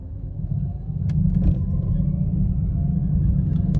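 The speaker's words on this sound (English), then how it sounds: "I'm going this uphill, and watch how easily it can go up." A Changan E-Star electric city car climbs a hill, giving a steady low rumble of tyres and road noise that builds slightly and holds, with a few faint clicks.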